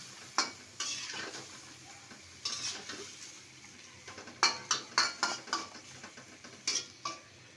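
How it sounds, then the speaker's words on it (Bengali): Fish curry with potatoes and flat beans being stirred and sautéed in a pan: a spoon scrapes and clinks against metal in a run of sharp, close strokes over a faint sizzle. "এখন ভালো করে কষা নিব কষানো শেষে তারপর টমাটো দিব"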